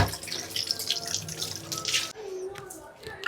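Tap water runs and splashes steadily while things are washed at a home sink, with a softer trickle and drips after a brief break.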